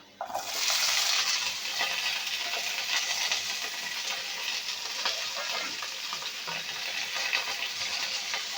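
Cauliflower and potatoes frying in oil for a vegetarian curry, a steady hiss of sizzling that runs continuously and fairly close, with faint scraping as the pieces are turned over in the pan.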